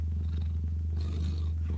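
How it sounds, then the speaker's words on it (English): A cat purrs steadily and close up, a continuous low rumbling drone with a soft rhythmic pulse, heard on its own with no talking. "She purrs 24/7."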